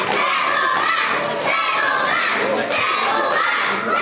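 A sold-out wrestling crowd at Snodland roars continuously, with loud, dense cheering and scattered shouts filling the whole stretch without a break.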